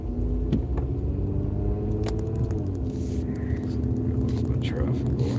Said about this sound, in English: a little bit of traffic going on